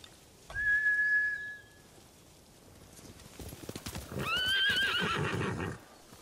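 Samurai horses in Ghost of Tsushima: one sharp neigh rings out, then after a pause a louder whinnying burst rises over a patter of hooves clip-clopping, all set against a quiet outdoor backdrop.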